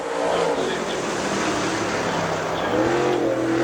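A race car at Dixie Speedway on a qualifying lap, driving hard into turns three and four. The engine holds a loud, steady drone throughout with some pitch shifts near the end, and a commentator talks over it.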